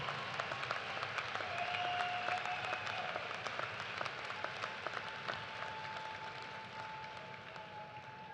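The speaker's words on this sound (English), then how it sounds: "Let's give a round of applause to everyone who helped make this a celebration to remember." A university commencement audience applauds in a large hall with dense, even clapping that holds steady and fades only slightly, sounding somewhat distant and soft.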